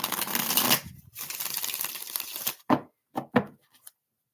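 Tarot cards shuffled before a reading: a dense run of riffling crackle and flutter, then several short separate snaps and slaps as the deck is bridged and squared, close and fairly loud with no talk.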